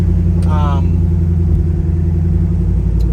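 A 1966 Chevrolet Nova on the road, its engine giving a steady, close, low rumble that runs unbroken under a brief higher whine as the car turns left.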